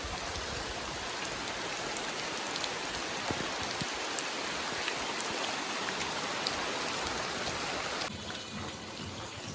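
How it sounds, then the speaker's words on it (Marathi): Heavy rain pours down steadily, a dense hissing wash with scattered louder drops, continuous and close, with no talking. "शेवटी पाऊस पडलाच पण नशीब आम्ही पटपट ते झाकून घेतलं"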